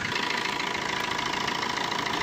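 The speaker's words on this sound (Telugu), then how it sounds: "ఇంజన్ అయితే ఇంజన్ సౌండ్ కూడా స్మూత్ ఉన్నది" A 2011 Maruti Suzuki Swift Dzire VDI diesel engine idles nearby with a steady, even rhythmic clatter and hum, loud and unbroken, with no talking.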